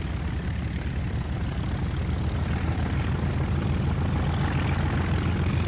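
A P-38E fighter in War Thunder gives a loud, constant propeller-engine drone that fills the whole stretch without letup, close and steady, with no talking.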